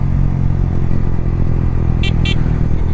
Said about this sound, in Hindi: ये फर्स्ट राइड है भाई आफ्टर इंस्टॉलिंग R9 एग्जॉस्ट